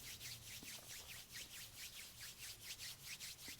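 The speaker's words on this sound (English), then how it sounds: "Start to rub the palms of the hands." Palms of the hands rubbed briskly together in a quiet room, a soft continuous swishing friction with a steady back-and-forth pulse, close and alone.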